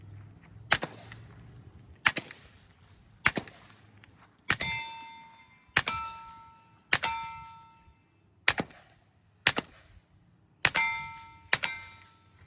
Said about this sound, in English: Let's take some shots with a rather large 22 can on the Taurus TX22. We're going to take some shots into the dirt and the steel